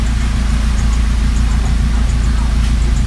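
A 2018 Hyundai Accent with a replaced head gasket idles, a steady low rumbling engine drone with a faint uneven pulse, close and loud and unbroken for a few seconds.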